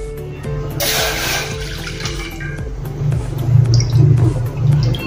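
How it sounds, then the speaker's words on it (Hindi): Water is poured into a pan to start sugar syrup for halwai-style besan peda, a steady splashing flow that swells louder near the end, with no talk over it. "तो पहले हम पानी डालेंगे।"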